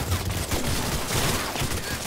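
Rapid bursts of gunfire fill a Cyberpunk 2077 firefight on normal difficulty, dense and continuous across the whole stretch without a break.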